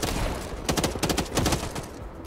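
A player fires automatic bursts in a PvPvE shooter video game, a dense, close run of rapid shots in two or three clusters that taper off near the end, with no talking over them.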